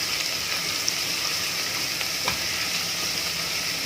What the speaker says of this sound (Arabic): اشوح عندي كده في التوم.